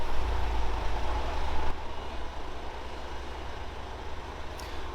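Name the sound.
Mercedes E220 wheel spinning in drive, lifted on a car lift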